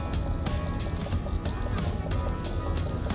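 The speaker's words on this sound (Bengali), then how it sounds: "তো দেখছেন বোট চলছে তো চলছে" A boat moves through the water of a mangrove forest trip, with steady rushing and splashing water and an ongoing low engine rumble that stays loud and continuous.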